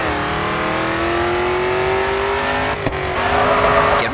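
Racing car in the game GRID 2 drifting through a corner: a steady, loud engine drone with rising pitch, then a brief dip before the revs climb again and tires scrub, with no one speaking.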